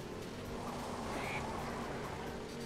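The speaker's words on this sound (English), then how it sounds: "I just went over a bird. I heard a squawk." A brief bird squawk from the Cars racing video game on PS2, sounding as a car runs over the bird, half buried in the steady roar of engine and game noise.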